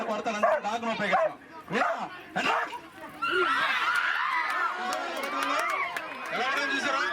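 A police dog barks in short bursts during a demonstration at a Police Commemoration Day parade ground in Eluru, with someone talking loudly over the dog and crowd noise.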